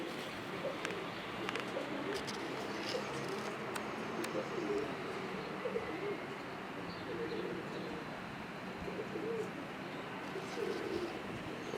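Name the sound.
pigeons cooing, Ustad Sakhi breed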